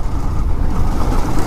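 Motorbikes, a Yamaha R15 and FZS, race along a road, their engines a steady, loud broadband roar that holds throughout without any voices.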